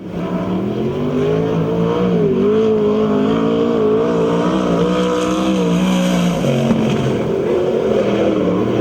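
Sprint cars in a USAC/CRA race at Perris roar steadily at close range, engines rising and falling in pitch with overlapping revving as the pack circles the dirt track, loud throughout.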